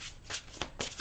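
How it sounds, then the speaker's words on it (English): Quick riffling bursts of cards being shuffled, three or four crisp flurries close up with no voices. "One more shuffle"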